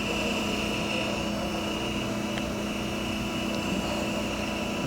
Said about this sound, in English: Right now the machine's up and running, the hydraulics are on. We'll start the main spindle.